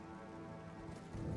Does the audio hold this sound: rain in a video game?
yes